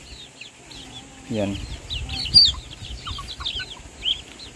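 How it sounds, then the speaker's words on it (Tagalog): Native Red Island Red chickens cluck in short bursts at close range, with a louder squawk midway and a voice speaking briefly among the birds. "Yung mga manok kasi na yan ay mga native chicken."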